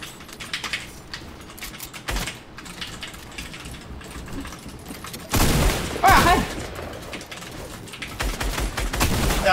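Fortnite gunfire crackles in rapid bursts, loudest in a dense volley near the middle and more rattling shots toward the end, with game noise around it and no talk.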